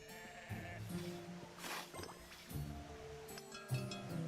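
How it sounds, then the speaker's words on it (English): Sheep in a farming video game bleat several times in quick succession, wavering cries with faint dripping and other game sounds between them, heard alone and fairly quietly. "Sheep give you wool."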